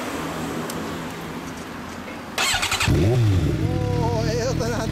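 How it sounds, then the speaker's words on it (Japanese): A 2013 Suzuki GSX-R1000 fitted with a Two Brothers exhaust sits quietly at first, then fires up and revs in rising and falling sweeps, loud and close, with faint background noise. "エンジンを吹かせてもらいますか"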